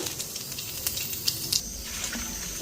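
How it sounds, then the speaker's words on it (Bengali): Vegetables being rinsed in water in a home kitchen: a soft, continuous splashing hiss at low level with a few faint clinks, and no talking. "আর এই যে একবার জল নিয়া ধুইতাছি"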